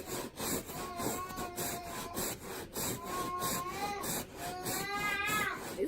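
A stained spot on a chair being scrubbed hard with a cleaning product, producing steady, close rubbing and brushing with squeaky, whining tones that rise throughout.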